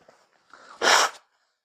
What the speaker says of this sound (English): I feel the need to blow my nose.